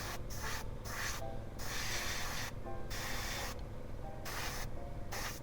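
An airbrush mists Vallejo paint in short hissing bursts, several separate sprays of about half a second to a second with pauses between, soft and close, no voice.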